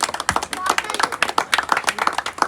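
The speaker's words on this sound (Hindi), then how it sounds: "कृपया जोरदार तालियों से इनका स्वागत करें" Quick, dense handclaps from a crowd greet a prize winner at a pigeon-flying tournament prize distribution, a steady burst of applause up close.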